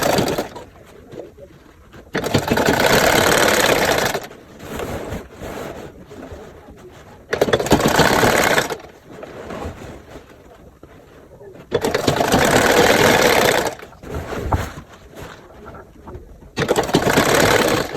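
A sewing machine stitching the two sides of a dress lining together, fast whirring runs of a few seconds each separated by pauses, close and loud, with soft talking in the gaps.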